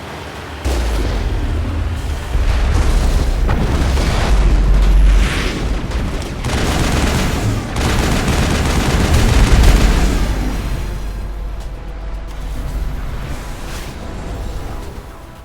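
Heavy artillery fire and explosions in the Mass Effect video game rumble through continuous deep booms and crashing blasts, loud and dense for most of the stretch before easing slightly toward the end.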